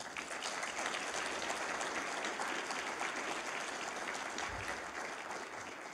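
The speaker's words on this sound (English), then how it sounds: "So, please give your applause for these sponsors." An audience at a consortium event applauds its sponsors, steady sustained clapping from a crowd, somewhat distant and without talk.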